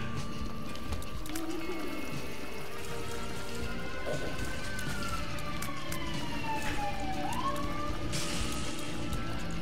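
An ambulance siren from the video game The Binding of Isaac: Repentance wails faintly beneath dense, constant game noise, its rising and falling tone drifting through the mix.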